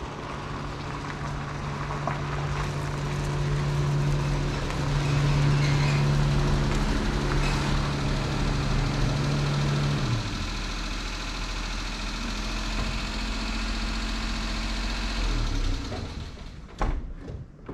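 Small engine of a Japanese Daihatsu Hijet mini truck, recently fitted with a new carburettor and troubled by distributor issues, drones steadily and close throughout, shifting in pitch partway through and ending in a few sharp knocks.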